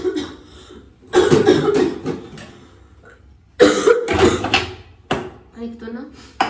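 A woman coughs in close, harsh bursts: a first fit of several coughs, a pause, then another loud cluster, with a softer spoken stretch at the end.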